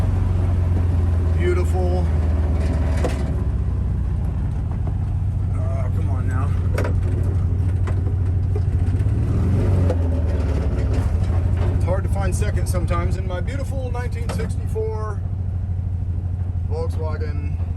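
A Volkswagen Type 3 notchback drives along with a continuous low engine drone and road rumble, someone talking over it throughout as it rolls up to a home.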